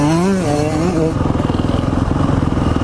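A two-stroke Yamaha motorcycle rides past close by at a ride day, its pitch sliding down before settling into a loud, rapid buzzing pulse.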